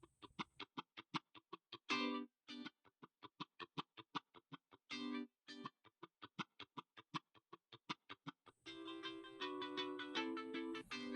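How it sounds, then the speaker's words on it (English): Layered funk guitar part played with key switches on, a run of short choppy staccato stabs in a tight rhythm with effects coloring the tone, then sustained chords take over near the end; no voices. "I layer another guitar playing a similar part to the first one."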